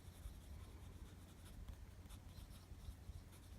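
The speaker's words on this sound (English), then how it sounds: "you can hear the nib on the paper" Medium Bock nib on a Karas Kustoms fountain pen scratching across paper, a quiet continuous scratchy rustle with small rhythmic strokes, close and alone.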